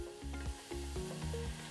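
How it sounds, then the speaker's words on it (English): Onions sizzling steadily in a pan for a squash stew, a close, continuous fry with soft rhythmic stirring scrapes. "So you can hear our onions are sizzling."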